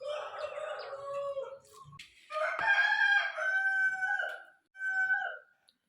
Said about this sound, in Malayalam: ഇവിടെയുള്ള കോഴികളൊക്കെ എന്നും മുട്ടയിടുന്ന കോഴികളാണ്. പിന്നെ പൂവൻ കോഴിയെ വിൽക്കാനായിട്ട് വളർത്തുന്നുണ്ട്.